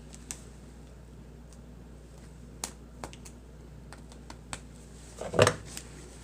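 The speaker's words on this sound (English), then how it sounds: "cut a couple of these stitches." A pocket knife cuts the stitches of a hat with a handful of faint, sharp snips and ticks spread out over a quiet background, ending in a slightly louder cluster of cuts.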